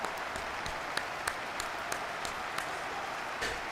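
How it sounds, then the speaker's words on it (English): Scattered crowd applause in a Madden 23 football game as an injured Bears linebacker leaves the field, a soft, steady patter of claps with a few sharper individual slaps, heard at a distance. "we'll give him some claps as he comes off the field"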